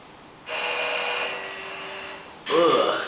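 A Schindler traction parking elevator at a shopping center runs with a steady whirring motor drone that shifts partway through, then a louder surge with a swooping tone near the end, heard close and without talk.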